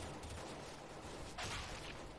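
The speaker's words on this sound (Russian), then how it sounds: "Офигеть, сколько здесь много стреляют." Gunfire in Counter-Strike: GO, a dense, fairly faint crackle of shots with one louder burst about halfway through, no talking.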